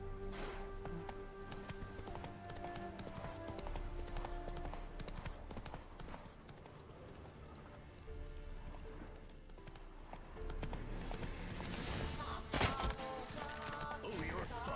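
A horse galloping in the video game The Witcher 3, steady rhythmic hoofbeats under a continuous game music score and ambience, a voice briefly heard.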